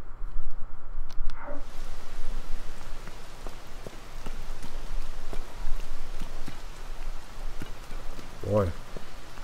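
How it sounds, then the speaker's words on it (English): Rain pours steadily in the video game Tears of the Kingdom, a dense, even hiss of drops on surfaces with a few brief clip-clop taps near the end. "the rain must be really covering up the sound if he didn't even notice me there"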